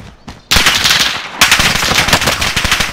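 Rapid automatic gunfire in Call of Duty Warzone on Rebirth Island, loud and close, with continuous bursts of cracking shots after a brief quieter start and no talk over it.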